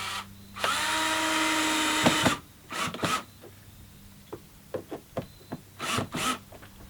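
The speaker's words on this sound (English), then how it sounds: "drive in that screw." A power drill drives a screw while a solar light is being installed, one sustained loud whir for about a second and a half, then scattered clicks and handling knocks.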